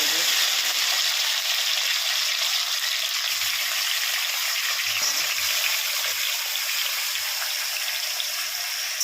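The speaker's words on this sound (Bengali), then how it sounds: "কড়াইতে সর্ষের তেল দিয়ে তাতে কালো জিরে ফোড়ন দিয়ে দিয়েছি এবার একদম সরু সরু করে কেটে রাখা টমেটোগুলো দিয়ে" Thin-sliced tomatoes sizzle in a wok of hot mustard oil tempered with black cumin seeds, a steady dense hiss and crackle that stays loud throughout with no talking.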